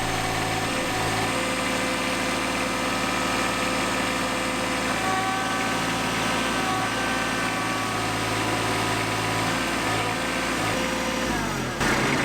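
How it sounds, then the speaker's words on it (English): A small Kubota tractor's engine runs steadily under load while pushing against a shed, a constant close mechanical drone that shifts slightly near the end. "the tractor, you'll see here, it just would not budge the shed"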